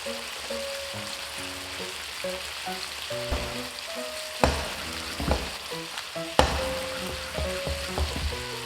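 Beef sears in a frying pan for a rosé pasta, a continuous close sizzle with occasional louder pops, set against soft background music.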